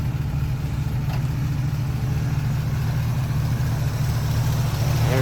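A 1972 Chevrolet C10 4x4 pickup with a 350 V8 idles steadily and close by, a low, even engine rumble running throughout with no change in pace.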